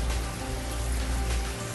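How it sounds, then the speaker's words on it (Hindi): Heavy rain pours steadily outside, a dense, loud and unbroken hiss with a deep rumble underneath and no voices. "और आज बहुत तेज़ बारिश हो रही है"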